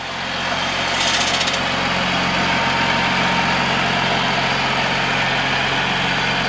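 A 220-horsepower Cummins ISB 6.7 turbo diesel in a 2008 Freightliner Business Class M2 106 truck idles with a steady, close low rumble and hum that holds unchanged throughout.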